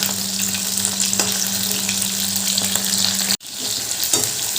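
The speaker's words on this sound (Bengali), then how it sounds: "এবার ভালো করে একটু উল্টে পাল্টে ভেজে নেব" Marinated chicken pieces fry in hot oil in a wok for a chili chicken dish, giving a steady, loud sizzle with scraping stirs as they are turned, a low hum beneath, and a sudden brief cutoff before the frying resumes.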